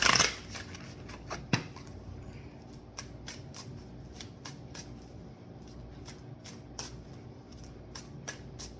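Tarot cards are shuffled close by in a quiet room, with soft, irregular riffling and sharp flicks and taps scattered throughout.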